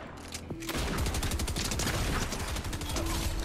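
Dense rapid gunfire during a Fortnite match, starting after a brief pause and then rattling loudly and continuously as sustained bursts with overlapping shots, with some speech mixed in.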